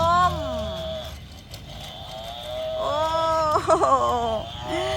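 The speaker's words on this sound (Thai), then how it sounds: "มามาดูวัวกับควายดีกว่า ข้าววัว ข้าววัว โอ้ ร้องมอมอเลย" A cow lowing loudly and close by, with a few long, drawn-out moos that rise and fall, a short gap between them, and a final shorter call.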